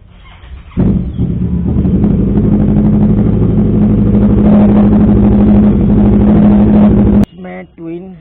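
A 2015 Kawasaki Ninja 650 twin-cylinder motorcycle engine runs loud and steady at close range for most of the clip, cutting off abruptly near the end before a brief voice.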